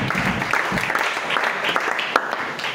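A church congregation claps in steady, dense applause that fills the room throughout, with voices faintly mixed in.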